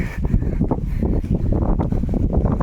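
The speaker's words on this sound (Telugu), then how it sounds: "గాలి ఫుల్గా వేస్తుంది" Strong wind blowing across a rocky hilltop at a temple, gusting and buffeting the microphone with loud rumbling bursts throughout.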